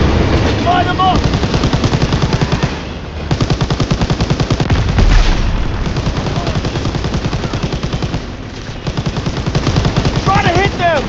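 Dense Call of Duty WWII gunfire, rapid machine-gun bursts and rifle shots in a loud sustained barrage with brief pauses, while voices shout over the shooting.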